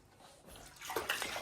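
A Barbie mermaid doll is dipped into a small pool of water, giving a soft sloshing and splashing that builds toward the end, quiet and close with no talk.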